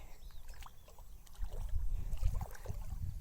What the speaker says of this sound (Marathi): आवाज दिसला का पाण्यातून चाललंय